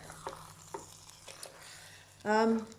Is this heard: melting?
yes